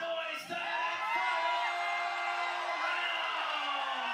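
A loud, sold-out crowd roars and whoops at a boxing fight during round three, with yells and bellows swelling into a sustained, raucous din throughout.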